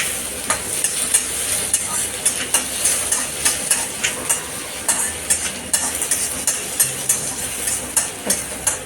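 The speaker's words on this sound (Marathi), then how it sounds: "जास्त लाल नाही करायचा जसं भाजीसारखा आपला, फक्त परतून घ्यायचा नूडल्सला कांदा" Onion sautéing in hot oil for street-style Hakka noodles, a steady sizzle broken by a regular rhythm of spatula strokes scraping the pan, close and fairly loud, with no talking.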